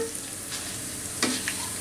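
Flattened rice (chira) frying in a pan for crispy chira bhaja, a soft continuous sizzle with brief scraping stirs, close and quiet, no talking.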